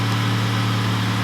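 A 9th-generation Honda Accord engine idles smoothly with a steady, low hum that holds level and close for the whole moment, with no talking.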